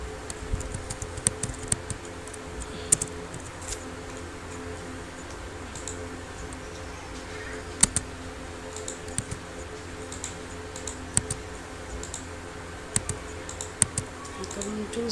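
Typing on a computer keyboard: steady, light clicking keystrokes throughout, fairly close, over a low background hum, with scattered louder taps and no voices.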